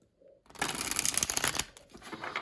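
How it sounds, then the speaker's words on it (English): A deck of tarot cards with moderately thick card stock shuffled close by: a quiet start, then a rapid riffling flutter that fades into softer card handling. "let me go ahead and shuffle."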